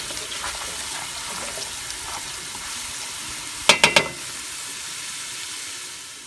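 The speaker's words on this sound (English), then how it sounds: "we're going to saute that garlic for about 3 minutes until it's nice and golden brown" Garlic and chili flakes sautéing in a pan, a soft steady sizzle throughout with a few sharp clanks of a utensil against the pan partway through.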